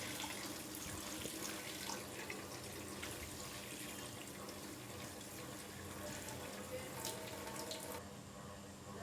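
Water splashes and trickles steadily from a cloth being squeezed to drain freshly made paneer, a faint continuous wet spatter close by that stops abruptly near the end.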